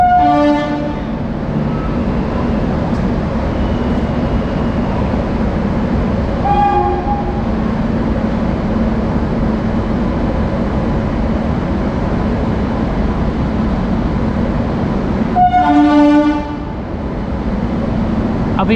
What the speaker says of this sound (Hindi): हमारी ट्रेन लुधियाना से चल पड़ी है।